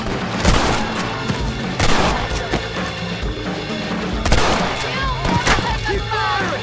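Gunfire in Red Dead Redemption, repeated loud shots and volleys cracking in irregular bursts through the whole stretch over a dense battle din.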